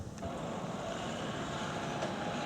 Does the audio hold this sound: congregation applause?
no